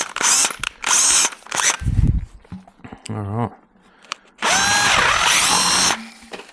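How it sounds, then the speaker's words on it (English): A large power drill whines in bursts, a big bit biting into steel with grinding and rattling, while a person speaks briefly between runs. "That's the thing about big drill bits, is they kind of get out of control very easily."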